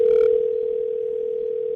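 A telephone call line on a livestream gives one steady, unbroken electronic tone, loud and clear with nothing else heard, and a few brief higher tones stacked over it at the very start.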